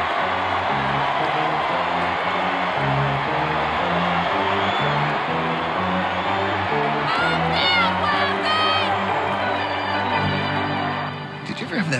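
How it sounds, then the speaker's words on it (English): A baseball stadium crowd roars as the Cleveland Indians take the field, a broad sustained wash of cheering and shouting. It runs continuously alongside music for about twelve seconds. "listen to the roar of the crowd as the Indians take the field"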